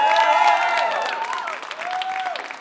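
Studio audience applause and light cheering, a dense burst of clapping that starts strong and gradually thins, with a sustained tonal musical sting running underneath.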